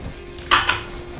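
Chopped carrots tipped into a bowl of chicken nugget mixture, a quick clattering knock of utensil against dish followed by a second softer tap.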